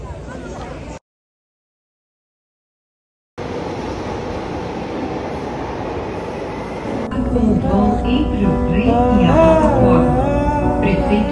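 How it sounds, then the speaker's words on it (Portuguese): A passenger train rumbles with a steady low roar during the ride, cutting out briefly near the start before resuming, and a person talks over the noise in the later part. "A gente vai pegar o trem agora de volta."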